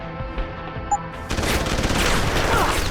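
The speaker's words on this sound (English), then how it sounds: "Someone shooting." Gunfire in Deus Ex: Human Revolution: a faint shot or two at first, then a sudden loud, dense burst of rapid shooting that keeps going to the end.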